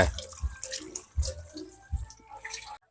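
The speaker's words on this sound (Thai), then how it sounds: "ล้างจนให้มันเป็นสีซีดเลยนะ ล้างไปสักสามสี่น้ำ" Pork liver being rinsed in a sink, with water dripping and splashing in irregular bursts and soft trickles close by, no talk, the sounds stopping abruptly near the end.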